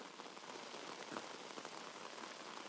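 Heavy thunderstorm rain pours down steadily in Queens, New York, a dense, constant hiss of drops with no voices.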